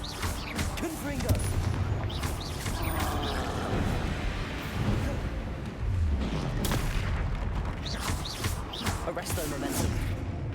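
Blasting Confringo spell explosions fired from a wand in a wizarding video game, with repeated booming bursts and crackling impacts over a busy battle backdrop and a voice talking at times.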